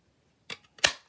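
A paper punch snapping through Smoky Slate cardstock to cut small stems: two sharp, close mechanical clicks about a third of a second apart, the second louder, alone in a quiet room.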